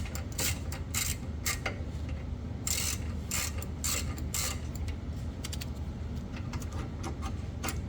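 A brake caliper is pried off a 1976 El Camino, producing a run of close, irregular metallic creaks, clicks and scraping taps over a low steady background hum.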